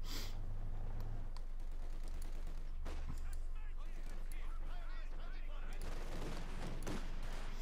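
Machine gun and autocannon fire in the Company of Heroes 2 strategy game, a dense clatter of rapid bursts and sharp cracks over constant battlefield rumble, moderately loud throughout.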